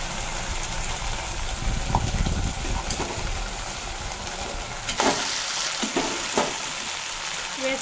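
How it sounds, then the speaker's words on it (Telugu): Fried veg Manchurian balls stirred into tomato sauce in a hot pan, giving a soft sizzle with a few clinking scrapes of the spoon near the end, close but moderately quiet. "ఇప్పుడు ముందుగా ఫ్రై చేసి పెట్టుకున్న వెజ్ మంచూరియన్ బాల్స్ ఇందులో వేసి మిక్స్ చేసుకోవాలి."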